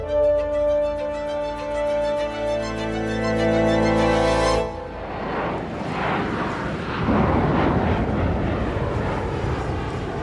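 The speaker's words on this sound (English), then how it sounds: "A passenger plane flies south over Washington state." A passenger plane flying south over Washington state through a storm: a steady, loud engine drone fills the cabin, then gives way to a rough, broadband roar of wind and rain that rises and holds to the end.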